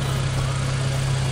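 A 2008 supercharged Honda Civic Mugen with stock exhaust idles steadily and quietly, giving a constant low engine hum with no revving throughout.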